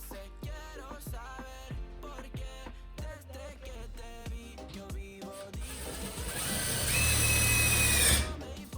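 A power drill drives a wafer head screw into Colorbond steel wall cladding, first a rhythmic pattern of mechanical pulses, then a rising, loud whine as the screw bites into the sheet metal, close by.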